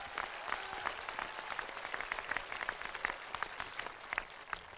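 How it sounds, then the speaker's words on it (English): An outdoor crowd at a high school graduation claps together, a faint, steady wash of many hands applauding from a distance with scattered sharper claps and no talking. "How about a round of applause for Mr."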